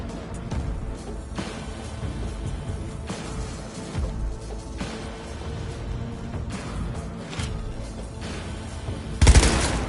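Video game gunfire in Cyberpunk 2077, a dense, continuous barrage of rapid shots and bursts from several weapons during an indoor firefight, loud and chaotic, ending on a heavier blast.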